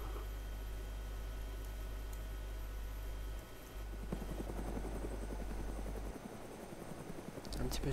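A helicopter in the survival game DayZ flies with a constant, loud rotor and engine drone. Players talk over it while the pitch and texture shift briefly as it moves around.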